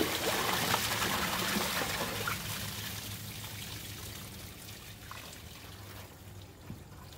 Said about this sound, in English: I've got about 4 gallons of water in my bucket, and I'm just going to dump the whole thing in